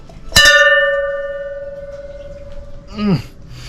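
A single strike of a ship's bell aboard a Chinese junk rings out loud and close, its clear metallic tone sustaining and slowly fading for a few seconds before a voice speaks briefly.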